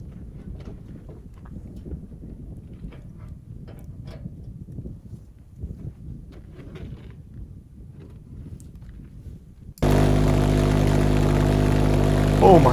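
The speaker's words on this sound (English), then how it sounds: "Crazy Rocket Man testing really big 400-pound thrust pulse jet engine." A homemade pulse jet engine rated at 400 pounds of thrust fires up abruptly partway through, a loud, dense, steady roar that follows a quieter stretch of low rumbling and wind.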